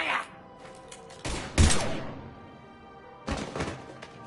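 Gunfire bursts in a Mass Effect 3 battle: sharp, loud volleys around one and a half seconds and again near three and a half seconds, with a thudding impact between them.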